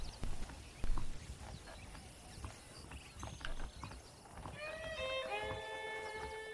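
Horses in the Red Dead Redemption western game, hooves clopping in an uneven walking rhythm at moderate distance, a couple of louder thuds early on and a bright ringing musical tone entering near the end.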